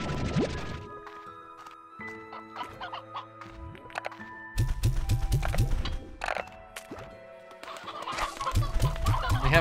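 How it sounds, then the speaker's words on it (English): Chickens in the video game Slime Rancher 2 cluck repeatedly in bursts over background music, with a few thuds and clattering noises between the calls. "We have a little bit of a chicken infestation going on over here."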